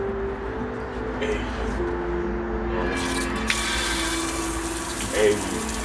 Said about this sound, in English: This is the shower.